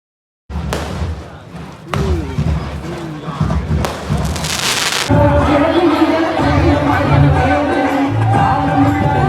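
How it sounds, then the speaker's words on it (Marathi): A large crowd celebrates outside the Rameshwaram temple during a kalash procession, a dense, continuous roar of voices with thumps and bangs. It grows louder and fuller partway through, with people talking close by. "इकडे खूप मोठ्या संख्येने जल्लोष चालू आहे."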